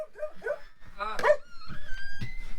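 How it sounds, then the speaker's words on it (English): A dog barks several times at close range, the barks mixed with whimpers and yips, while people talk and greet each other over it outdoors. "your dog's barking at me."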